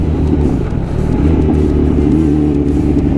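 A 2018 Opel Corsa E climbs a hill on a country road, its engine revving steadily and loud from start to finish under strain, with no voices.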